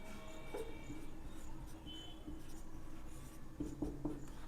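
An equation being written by hand, heard as soft, close scratching strokes that come in short bursts, with a small cluster of quicker strokes near the end, over a faint room hiss.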